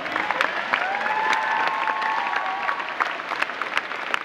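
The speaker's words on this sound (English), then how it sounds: "Let's give them a round of applause." A college audience applauds a group asked to stand: sustained crowd clapping at moderate loudness, with a faint whistle or cheer rising through the middle before the clapping thins slightly.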